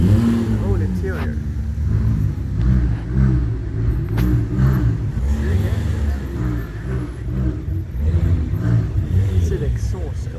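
A Mansory Venatus wide-body Lamborghini Urus revving and rumbling nearby, deep exhaust burbles rising and falling, with people talking over it.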